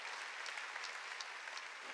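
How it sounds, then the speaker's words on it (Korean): A sermon congregation bursts into applause, dense continuous clapping from many hands, loud and even throughout with no voice over it. "깨달았으면 박수 치라고요"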